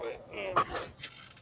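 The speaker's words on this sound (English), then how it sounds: "We can see the puppies." Puppies give a couple of faint, short yips and barks under people's close talking in a home setting, quick and fleeting.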